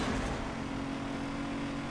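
A Mazda RX-8 with a rotary engine accelerates in the Need for Speed: Most Wanted video game, producing a dense, continuous high-revving engine roar with a steady whine, loud and close for a short burst.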